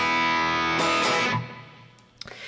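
Electric guitar through a NUX MG-30 mid-gain patch with amp, compressor, EQ, delay and reverb: a sustained distorted chord rings out, then a second strummed hit fades, followed by a couple of faint string clicks.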